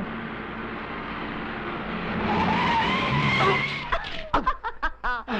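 A car brakes hard, its tires skidding in a rising, drawn-out squeal that grows loud and then breaks off, followed by laughter and short voices close by.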